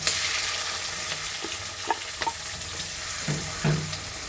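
Mustard seeds, chillies and shallots frying in hot oil give a bright continuous sizzle with occasional spluttering pops and stirring knocks, heard close with no voices.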